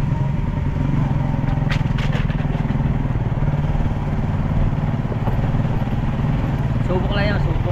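Motorcycle engine running steadily up close, a continuous low rumble with some clatter throughout, plus a brief higher whine near the end.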